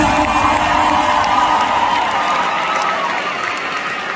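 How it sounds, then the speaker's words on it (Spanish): A large concert audience at a show at the United Palace in New York City applauds and cheers, a dense, steady roar of clapping and shouting that fades slightly toward the end. "Un aplauso para ti, ¿verdad?"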